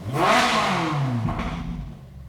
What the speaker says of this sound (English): I think an exhaust would sound better during idle, like right now.